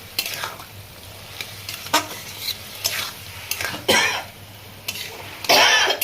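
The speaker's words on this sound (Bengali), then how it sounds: "আমি আলু আর মাংসটা কিমাটা একসঙ্গে দিয়ে দেবো আর জল লাগবে না এর মধ্যেই কষতে কষতে এটা হয়ে যাবে" Chicken mince and potatoes are stir-fried with spices in a pan, loud bursts of sizzling and spatula scraping in uneven strokes over a low hum, close by, with a brief cough.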